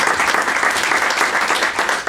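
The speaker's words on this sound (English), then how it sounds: "let's give Randy a big round of applause" Audience at a baseball Hot Stove event clapping for a speaker, a brief burst of dense, loud applause from many hands, close and steady throughout.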